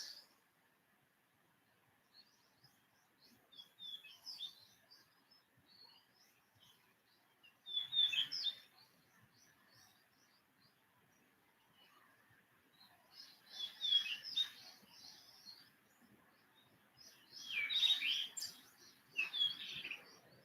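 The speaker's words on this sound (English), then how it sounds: "I don't know if you can hear the birds in the background," Birds sing outdoors on a quiet morning, with faint, scattered chirps and trills that come and go, growing into a few brighter bursts of song, distant and soft with no talking.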